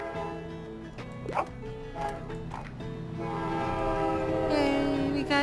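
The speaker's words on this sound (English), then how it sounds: "Sorry about the train." A train passing in the Tiny Bookshop video game: a steady rumble with a sustained horn blast under light game music, and a brief dog bark early on.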